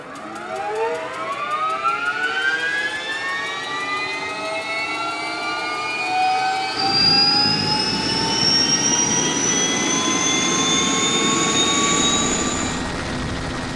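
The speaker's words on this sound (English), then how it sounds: "the helicopter is on the airfield, Michael begins to start up the helicopter and to calibrate all the instruments" A helicopter's turbine engine spools up at startup with a steadily rising whine and layered harmonic tones, growing louder with heavy rumbling underneath, no voices.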